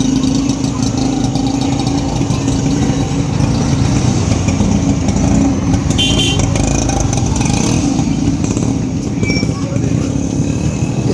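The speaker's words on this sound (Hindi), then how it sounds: "इस वक्त स्कूल में छुट्टी का टाइम है, इसलिए आपको गाड़ियों की, रिक्शों की आवाज़ें आ रही हैं" Steady roadside traffic of cars and rickshaws passes near a school at closing time in Model Town, Sialkot, forming a dense, loud rumble of engines and motor noise that holds without pause.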